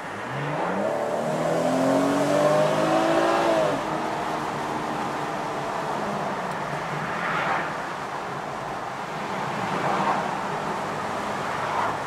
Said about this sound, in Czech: Plný plyn na konci obce.